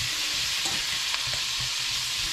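Hawaiian-style sweet baby back ribs sizzle and fry steadily in a hot pan, with soft scraping and clunking as they are stirred, a continuous close crackle throughout.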